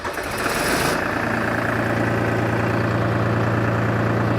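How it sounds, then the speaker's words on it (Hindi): A tractor engine cranks and catches, then settles straight into a steady, loud diesel idle with a low, even throbbing rumble, close by and alone. "आइए ड्राइवर जी थोड़ा ट्रैक्टर चालू कीजिए।"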